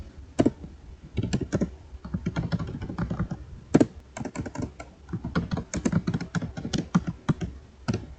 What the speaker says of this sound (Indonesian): Langsung saja di sini kita ketikkan IP.